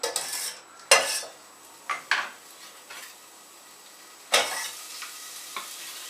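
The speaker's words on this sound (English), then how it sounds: "in the pan, I'm going to put a little bit of olive oil in, not much. I'm going to sweat off the onions" Onions sweat gently in a little olive oil in a pan for carrot and coriander soup, a soft low sizzle punctuated by several clinks and scrapes of a utensil against the pan, with no voices.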